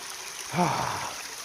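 Steady rushing water from a waterfall on the Appalachian Trail fills the clip, a constant hiss with a brief close breath or voice-like sound near the middle.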